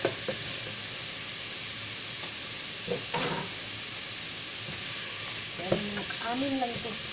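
Tomatoes and chilies sauté in a pan for mung bean stew, a soft steady sizzle with a few clinks and stirring knocks, and a brief voice near the end.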